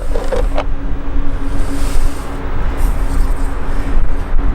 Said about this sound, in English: these things will turn with you in different directions. And it makes such a satisfying sound